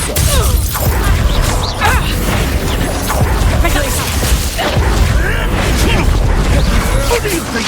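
Depulso force spell effects in the Hogwarts Legacy video game during a busy duel, dense crashing, booming and mechanical clatter bursts running loud and continuous, with a voice speaking over the combat.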